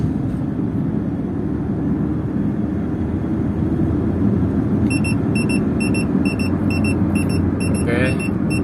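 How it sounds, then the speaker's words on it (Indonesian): Speed alarm of an OBD2 HUD P6 display inside a 2014 Toyota Avanza All New, sounding as a run of short, evenly spaced high beeps over the steady road rumble of the moving car, clear and close. "kecepatan 60 dia juga menyala alarmnya"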